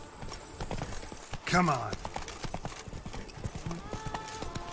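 Hooves of Roach, a horse in the video game Witcher 3, clip-clopping in a steady trot close by, with a short whinny partway through and someone speaking briefly over the hoofbeats.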